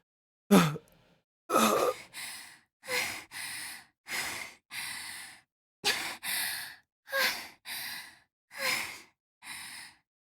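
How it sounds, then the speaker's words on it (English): Heavy, rhythmic breathing up close, paired gasping inhales and exhales repeating steadily with short silent gaps between them. "Only the sounds of heavy breathing resonated into the stillness of the night."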